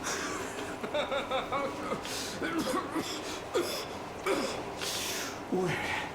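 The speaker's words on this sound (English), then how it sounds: "Don't you start coughing too, Crest." Repeated short coughs and rough exhalations in the video game Metro Exodus, against a steady noisy background, fairly faint, spread over several seconds.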